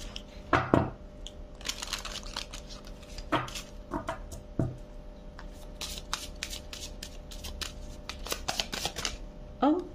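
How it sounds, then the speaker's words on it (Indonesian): Rumi oracle cards shuffled in several crisp, riffling bursts separated by pauses, close and clear with quieter rustling in between. "kita keluarkan satu kartu rumi"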